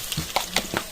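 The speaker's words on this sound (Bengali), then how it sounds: "এই যে ফোড়নটা একটু ভাজা হোক।" Whole spices for a tempering sizzle in hot oil in a wok with onion, green chilli and dried red chilli, giving a close, crackling fry with a few sharp pops over a steady hiss.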